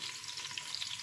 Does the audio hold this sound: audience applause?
no